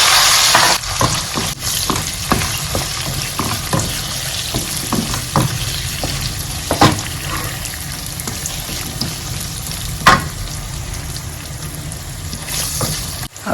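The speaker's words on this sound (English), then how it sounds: "I'll add the shredded onion to the oil." Shredded onion frying in hot oil at the start of a vegetable sauce, a loud steady sizzle with occasional stirring scrapes and knocks, close and continuous without talk.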